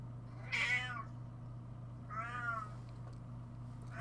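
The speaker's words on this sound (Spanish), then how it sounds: "Hay un gatito encerrado. Y era un gato." Two distinct plaintive cat meows from the PSX game Silent Hill, spaced about two seconds apart, clear and close over a steady low electrical hum, with no talking.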